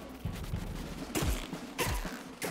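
A Gatling Pea plant in Plants vs Zombies Garden Warfare 2 fires in two quick bursts of rapid popping shots, fairly faint beneath busy game noise.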